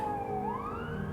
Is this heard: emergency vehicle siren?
yes